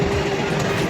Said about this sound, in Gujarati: એ ઉપર ટ્રેન આવી.